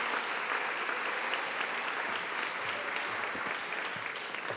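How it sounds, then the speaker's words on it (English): An audience at a school board meeting applauds students, a dense, steady wash of many hands clapping that holds at an even level throughout. "let's hear another round of applause for this group of students"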